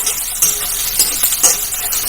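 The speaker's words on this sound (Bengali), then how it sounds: "পেঁয়াজটাকে আমি এবার একটু ভালো করে ভেজে নেব।" Thinly sliced onions frying in a pan with a close, loud, continuous sizzle, broken by a few brief stirring scrapes.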